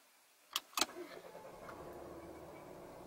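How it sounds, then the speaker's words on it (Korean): Volvo V90 Cross Country D5 diesel starting: two sharp clicks followed by a quiet engine catching and settling into a soft, low idle. "시동을 한번 걸어 보겠습니다."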